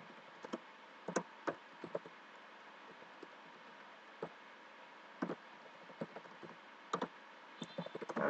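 Keys on a computer keyboard are typed while Windows XP is being worked on. The clicks come in sparse, irregular taps and small clusters, soft and close, over a steady low hum, with no talking.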